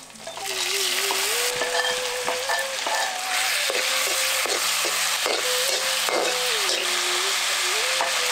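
Chopped tomatoes sauté with ginger and garlic in a hot pan, a steady close sizzle and frying hiss with occasional stirring clatter throughout, no talking.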